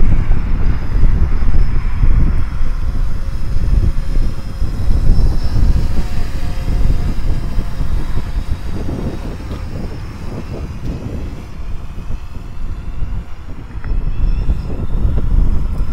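A DJI Phantom drone flying a waypoint route outdoors, its propellers giving a steady loud whirring buzz throughout, with gusty wind rumble and no voices.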